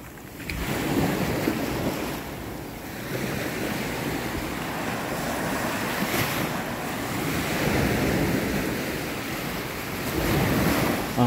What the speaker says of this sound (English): Ah, here comes the big wave. Water receding back.